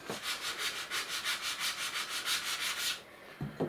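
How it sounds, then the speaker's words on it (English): Rhythmic back-and-forth sanding strokes on a wooden model part, about five per second, rasp steadily for three seconds, then stop, leaving a couple of soft knocks. "I'm just sanding it to get the profile just right"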